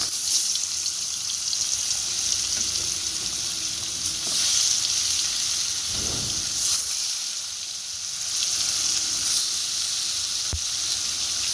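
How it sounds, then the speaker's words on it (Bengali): Fish frying in hot oil in a pan for a homemade fish curry with broccoli, giving a loud, continuous crackling sizzle up close, with brief swells as pieces are turned and no talking. "এর মধ্যে তেল দিলাম, তেলটা গরম হয়ে গেছে, এখন মাছগুলি দিয়ে দেব।"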